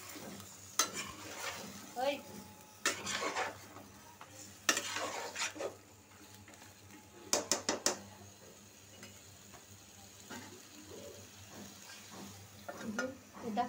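A spatula stirs spices, flat beans and potatoes in a kadai, giving quiet intermittent scraping clatters in separate bursts over a soft background, with a brief word spoken once.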